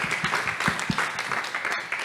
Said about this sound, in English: Applause for Beatrice, please.